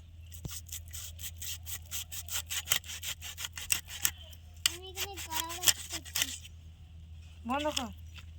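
Bhetki fish being cut into pieces with a blade, a run of quick, rhythmic rasping strokes close by, then a pause and another short flurry, with some brief voiced sounds in between.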